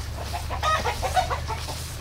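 Australorp and White Rock chickens and German roosters cluck in a short run of soft, overlapping calls at moderate distance, over a steady low hum.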